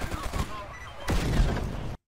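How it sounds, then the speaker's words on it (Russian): Enemy gunfire in the video game Stalker Anomaly: a sharp crack, then a dense burst of loud rapid shots that ends abruptly, under a voice talking. "И он еще при этом, блядь, стреляет"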